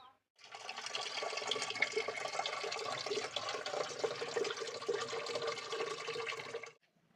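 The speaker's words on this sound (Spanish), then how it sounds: "Vamos a irle echando el agua para que la tierra se vaya ablandando" Water is poured steadily onto the soil of chili pepper seedlings to soften the earth. It makes a continuous splashing trickle that lasts about six seconds and then stops, with no voices over it.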